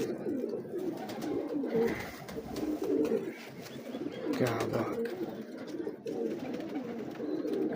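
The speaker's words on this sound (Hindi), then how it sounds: "अजब कबूतर है यार, क्या बात है, अजब कबूतर।" Soft, continuous cooing from high-flier big breeder pigeons of French stock, steady and close, with someone speaking briefly over it.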